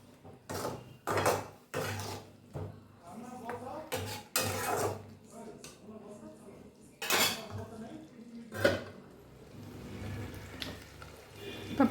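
Chicken being stirred in a metal pot, with repeated clanks and scrapes of a spoon against the pot and a louder clatter as the lid is set back on, close and fairly quiet, with faint background voices.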